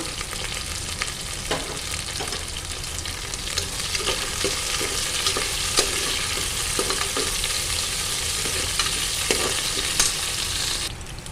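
Small shallots, curry leaves, dried red chillies and green chillies frying in hot oil with popped mustard seeds produce a loud, continuous close sizzle with light stirring scrapes over it.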